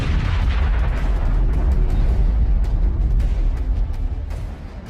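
A Russian armored personnel carrier explodes after an FPV drone strike, a sustained loud roaring blast with dense low rumble and crackling bursts that holds for several seconds before easing slightly.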